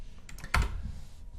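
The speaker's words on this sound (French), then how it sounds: "Donc ça, je peux le saisir au clavier" A few keystrokes on a computer keyboard while entering data into an Excel spreadsheet, a sharp cluster of clicks near the middle of an otherwise quiet moment.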